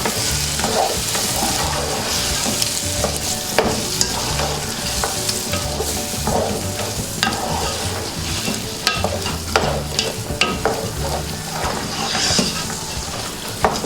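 Meat with garam masala and meat masala is stirred steadily as it fries in oil, giving a loud, continuous sizzle with repeated scraping and clattering strokes of the spoon close by and no voices.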